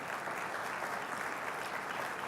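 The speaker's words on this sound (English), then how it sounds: "I expect your applause to be louder than that." Steady, dense applause from a large audience at a business conference, a continuous even wash of clapping with no speech over it.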